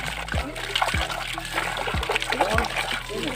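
Water splashes and trickles from a repaired jetmatic hand pump faucet, with recurring gushes about once a second over a steady wet background, close by and moderately loud.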